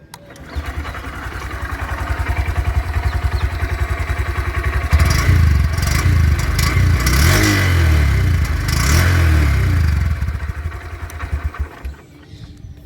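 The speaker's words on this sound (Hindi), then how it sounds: "ये इसका एग्जॉस्ट नॉट था।" An SP 125 motorcycle, ridden 40,000 km over a year, starts up and settles into a steady close idle, then its exhaust rises through several revs before the engine cuts off at the end.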